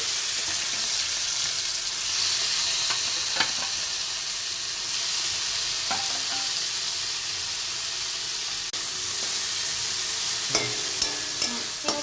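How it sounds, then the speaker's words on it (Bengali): Prawns fry in a pan for a jackfruit and prawn curry, giving a steady close sizzle and hiss broken by scattered scraping taps from stirring, with no talking. "চিংড়ি মাছটা ভেজে নিচ্ছি"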